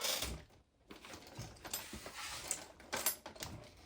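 Nuts being tightened down on a metal plate covering the center differential of an XRT RC truck, a series of close, short clicking and ratcheting taps with irregular rhythm.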